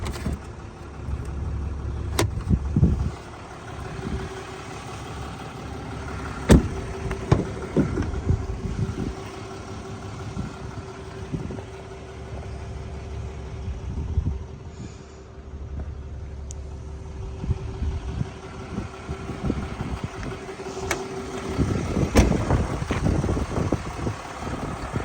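A 2023 Ram 3500 Laramie dually diesel 4x4 pickup idles in a steady low rumble, with occasional clicks and knocks and some wind buffeting the microphone throughout.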